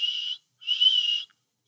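Two shrill whistle blasts, a short one followed by a longer one, sharp and close with silence between.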